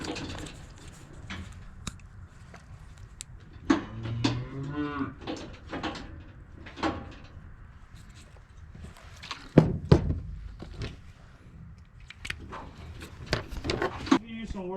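Cattle low and moo repeatedly while held in a chute during vaccination and worming work, the calls close and loud at irregular intervals, mixed with clanks, footsteps and people talking nearby.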